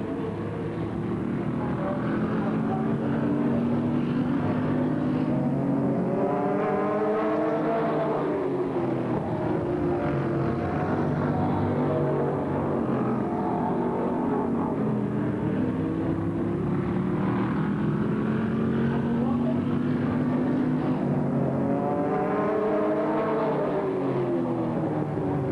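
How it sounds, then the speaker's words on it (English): Race cars at Lakeland Speedway in 1988 roar steadily around the track, their loud engine drone swelling and fading in repeated sweeps as the field passes by. "Morse is your second place machine on the Speedway"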